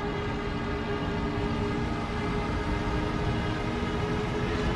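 Dive bomber siren during a diving bomb run in IL-2 Battle of Stalingrad, a loud sustained wailing drone with dense engine roar, constant and unbroken with no voices.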